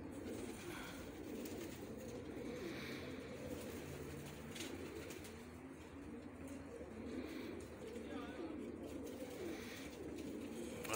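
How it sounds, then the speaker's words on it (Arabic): Soft, repeated cooing of turtle doves carries on throughout, low and murmuring at a modest level, with faint birdsong and a little background noise but no talking. "ديك التور شوفوا فوقها"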